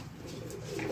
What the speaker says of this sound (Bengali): কবুতরগুলো রেডি করতেছি।